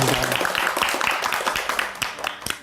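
An audience at a Korean national-heritage talk event on Gyeongbokgung claps for a guest artist, a brief burst of lively, close applause that tapers off after under three seconds.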